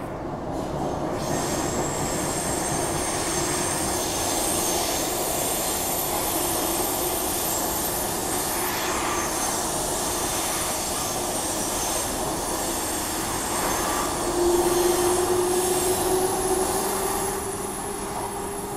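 A Transperth A-series electric train runs between Perth and Bassendean, its steady rumble and motor whine heard from inside the carriage, with a wheel squeal rising near the end.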